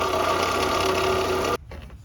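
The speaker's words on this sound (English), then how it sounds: "Apparently, my remanufactured alternator wasn't remanufactured so well." A faulty remanufactured car alternator gives off a loud, steady whining hum with a grinding edge, then cuts out abruptly, leaving quieter mechanical rustle.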